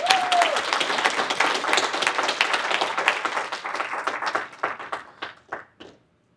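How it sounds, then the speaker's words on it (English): An event audience gives a round of applause, dense close clapping that thins toward the end into a few scattered individual claps before stopping, with a brief tonal whistle-like sound at the very start. "So can we please give them a round of applause?"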